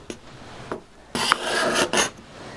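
A steel card scraper drawn across a wooden workpiece in a workshop, producing a few rough rasping strokes, the longer ones close and fairly loud, separated by short quiet pauses.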